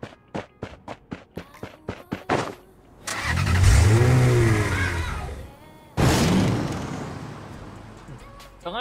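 Batmobile engine in a mobile battle-royale shooter, a rapid series of short revs, then a sustained loud roar that climbs and falls, cuts out, and resumes, with talk over it.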